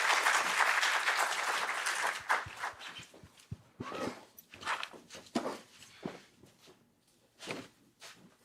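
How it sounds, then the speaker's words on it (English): Clapping from a small audience in an auditorium, dense at first, then thinning into scattered claps and soft shuffling before fading out. "Can we also have a round of applause"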